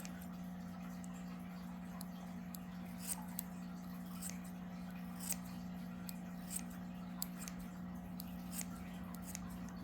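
Scissors give a light final trim to a yarn pompom made on a Clover pompom maker: a series of short, crisp snips spaced irregularly, quiet and close over a steady low hum, with no talking.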